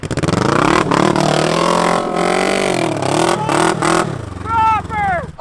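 A three-wheeled crotch rocket motorcycle revving hard in sand dunes, its engine loud and close with rising and falling pitch, while excited voices shout over it near the end.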